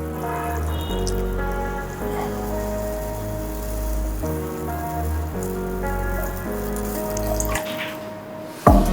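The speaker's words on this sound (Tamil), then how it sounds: "இப்போ தண்ணீர் ஊற்றிடுறோம்." Water is poured into a pot of rasam during cooking, a steady splashing stream under fairly loud instrumental background music, with a short clatter at the end.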